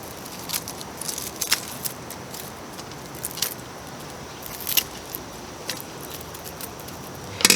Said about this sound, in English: Just cut all of these off.